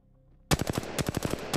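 Rapid automatic gunfire from the Apex Legends training mode on Xbox Series S bursts in after a short silence, a loud, close string of about a dozen shots fired in quick succession.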